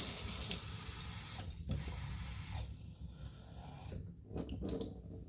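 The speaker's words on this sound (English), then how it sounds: "add my 1/2 cup of hotter water" Hot water runs from a tap into a cold bowl while making bread dough, a steady close splashing rush that cuts off briefly a few times before flowing again.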